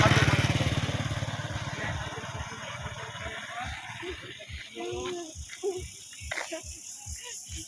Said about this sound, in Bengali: গাড়ি দেখো মা, মোটরসাইকেল